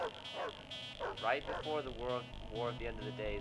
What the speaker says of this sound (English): It's not an enemy. That's a dog.